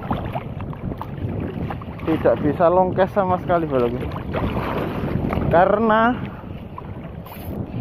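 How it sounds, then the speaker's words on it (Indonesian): Strong wind and choppy waves buffet a small fishing boat at sea, with a steady rushing, blustery roar that runs beneath someone speaking. "angin sama ombak kenceng wis"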